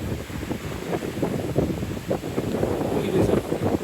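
Strong wind gusting at Momo Beach in Panglao, Bohol, a steady loud rushing buffet against the microphone with surf mixed underneath and no clear talk.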